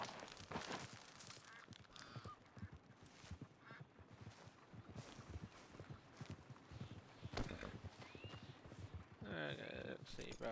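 Horse hooves clip-clop at a steady walking pace near the player's camp in Red Dead Redemption 2, mixed with footsteps, duck-like quacks and other game sounds while someone talks over them.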